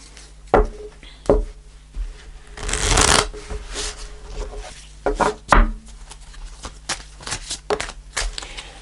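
Tarot cards shuffled and dealt onto a table, close and crisp: riffling bursts, a longer shuffle flurry, then a series of slaps and slides as cards are laid out, with no talking.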